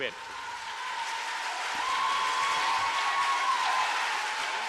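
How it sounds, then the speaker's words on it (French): Applause from an audience at a meeting on nuclear power plants after Chernobyl, a steady dense wash of clapping that swells and holds throughout, with a faint tone running beneath. "Malgré les applaudissements"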